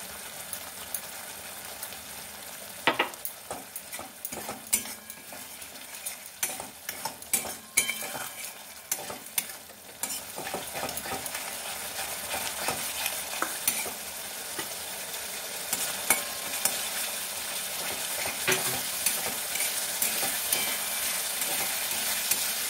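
Spices fry in oil in a pan for a coriander leaf pickle, with a steady sizzle and repeated scraping and clinking as a utensil stirs, close up with no talk.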